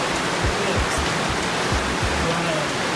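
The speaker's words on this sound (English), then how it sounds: "I don't know if you can see the water dripping." Continuous rushing water from dripping and falling water along an off-trail spot, a steady broadband wash that stays loud and even throughout with no clear individual drops.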